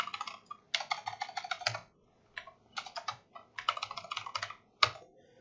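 Fast clicking of a computer keyboard as a search keyword is typed, with bursts of rapid keystrokes separated by short pauses and one sharper key press near the end.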